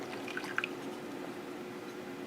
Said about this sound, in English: my student is going to pour in some water into the flask